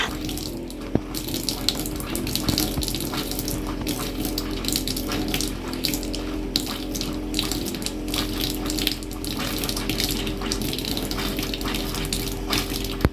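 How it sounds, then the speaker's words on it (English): Water running out through the plumbing of a Keystone Cougar 32BHS half-ton camper trailer during winterizing, a continuous gushing, splashing flow from a tap or line, steady and close for the whole stretch with occasional clicks. "We found it worked best to do it one at a time and really let the water run out through it."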